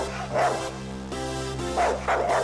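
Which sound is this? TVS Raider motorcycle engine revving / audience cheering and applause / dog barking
dog barking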